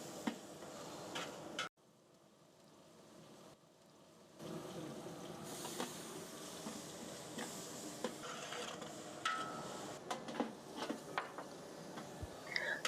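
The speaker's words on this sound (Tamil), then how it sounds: "எல்லாம் நல்லா வதங்கி கட்டியாக கிரேவி மாதிரி வர நல்லா கிண்டி விட்டுக்கிறேன்." Chicken biryani gravy is stirred in a pan, soft scraping and ticking strokes over a low simmer, faint and close, with no talking.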